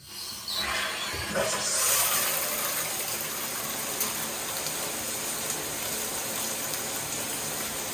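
A shower head sprays fine water streams in a steady, close hiss that starts abruptly after a brief moment and runs without pause, with no talk.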